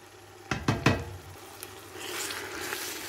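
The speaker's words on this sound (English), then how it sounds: "Sear the meat for 5 minutes until it boasts a tantalizing color." Marinated mutton searing in a pan for a dal gosht, starting with three sharp knocks of a utensil against the pan, then a soft building sizzle, no voices.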